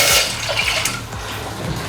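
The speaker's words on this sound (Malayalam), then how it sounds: "ഒരു 2 കപ്പ് വെള്ളം കറക്റ്റായിട്ട് അളന്നൊഴിക്കാം" Two cups of water are poured into a pot while making kozhukatta, a rushing, splashy pour that starts loud and settles into a softer steady trickle, with no talking.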